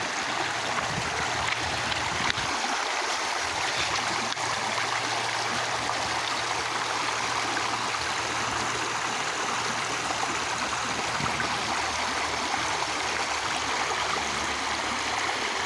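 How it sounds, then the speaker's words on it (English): A river stream rushing steadily and loudly nearby, its broad continuous flow filling the whole scene with no voices, after the water level has dropped a little. "So the river's actually dropped a little bit"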